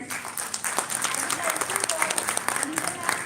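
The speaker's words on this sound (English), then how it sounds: "Please clap hands." An audience claps hands at a school event at DAV Public School, Sainik Colony, Faridabad; a moderate patter of applause runs throughout, partly mixed with voices.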